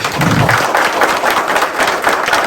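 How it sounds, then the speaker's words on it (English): A crowd at a racing hall of fame induction ceremony gives a loud, steady round of applause in a hall, continuous with no gaps over a short stretch. "I want to give her a round of applause, please"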